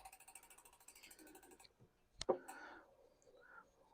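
A torque wrench ratchets with a rapid run of close, quiet clicks while tightening an e-bike pedal on an Intense Tazer MX Pro Carbon, followed by a sharp snap and a few softer mechanical sounds.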